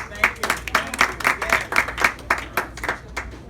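Audience applause from a crowd at a diaspora institute gathering, a steady run of claps lasting several seconds with some voices mixed in.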